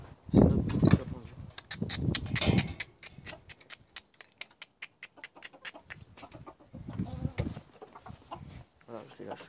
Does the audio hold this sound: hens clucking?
yes